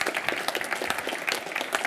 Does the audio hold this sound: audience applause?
yes